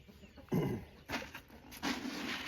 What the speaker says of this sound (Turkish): Bir de tavuklarımızı besleyelim.